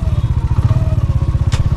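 A motorcycle squeezes along a road between container barricades with wires along the sides. The engine is close and loud, with a fast, regular pulsing thrum and a brief hiss near the end.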